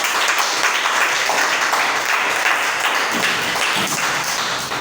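A church congregation applauds together, a dense steady wash of clapping held at even loudness for about five seconds, with no talk over it.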